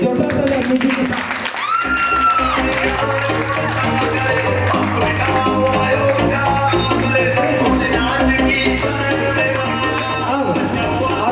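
Audience applause mixed with loud music at a motivational talk, a dense crowd clapping under a steady musical backing that swells in after a brief dip and continues throughout.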